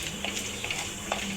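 Cumin seeds frying in hot oil while Birbhum-Bankura style biulir dal is cooked, giving a steady close sizzling hiss with small scattered pops and crackles.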